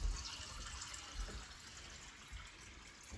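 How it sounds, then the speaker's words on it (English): Tap water runs at a sink to fill a cup, a faint, steady rushing hiss close by with no voices. "So I fill this with water."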